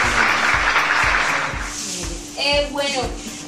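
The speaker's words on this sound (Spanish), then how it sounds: "Un aplauso para él, por favor." An audience applauds at a university management show, a dense burst of clapping that fades out, after which a voice speaks briefly.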